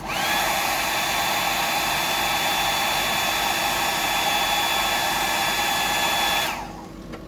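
A hair dryer blows a steady, loud whine over an orange prawn fly-tying pattern for about six seconds, then cuts off abruptly, leaving a faint room hum.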